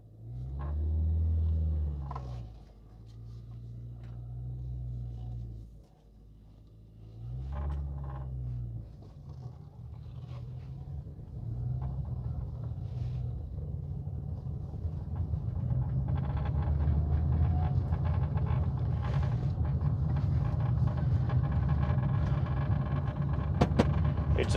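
A 1975 VW Passat type 32 driving slowly with its old interior rattling, heard as a low steady engine and road rumble from inside the cabin that grows louder and denser as speed picks up, with faint loose knocks over it.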